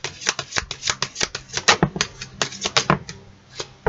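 Oracle cards are shuffled by hand in a quick, steady riffle of dense papery flicks, close and clear with no voices.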